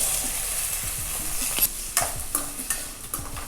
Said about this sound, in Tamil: ஒரு 1 நிமிஷத்துக்கு ஆனியன் நல்லா வதங்கணும்